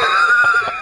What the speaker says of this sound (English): I'm hearing pitter-patters and screams of some units right now